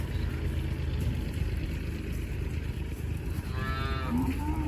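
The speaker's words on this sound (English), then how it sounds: "that's a big bull, but that cow there is almost the same size" On a farm with a big bull and cows, one animal gives a single low, drawn-out moo near the end, rising and falling, over a steady outdoor rumble.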